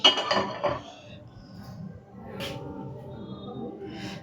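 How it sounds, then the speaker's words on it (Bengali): A metal griddle pan (chatu) set down on a kitchen stove: a few brief clanks and clinks at the start, then a quiet, low kitchen background. "এবার আমি চাটু বসিয়ে দিচ্ছি।"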